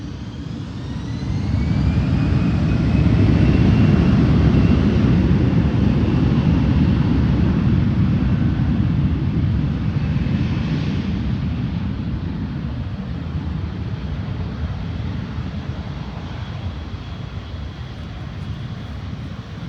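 A jet in Sichuan Airlines painted livery and a China Eastern Airbus A350 take off, producing a loud, deep, sustained engine roar with a rising whine. The roar swells to full power close by, then slowly fades as the aircraft climbs away.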